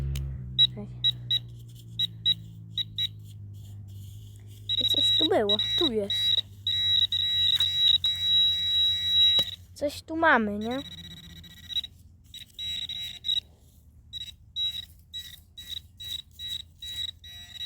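A metal detector sweeping over ground with a buried coin gives repeated short electronic beeps in bursts, fairly close, while a person talks over them outdoors.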